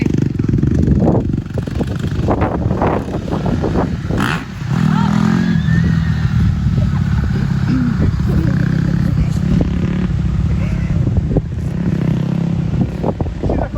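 A motorcycle engine revs and roars close by in a rural Maine setting, the loud throaty growl rising and falling continuously while people talk over it.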